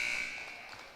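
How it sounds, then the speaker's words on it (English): Buzzer sounding at the end of the first half of a high school boys basketball game against Shippensburg: a single steady electronic tone that fades over about a second, with no talk over it. "Now at the buzzer"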